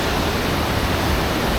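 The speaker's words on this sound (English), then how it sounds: "so I've made it down to the bottom of the waterfall" Wensley waterfall in Yorkshire heard from the bottom of the falls: a dense, steady roar of rushing water, loud and close, with no pauses or other sounds.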